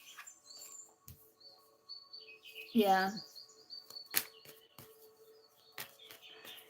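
Real birds chirp in thin, high, scattered calls across a quiet background, with a brief voice cutting in midway.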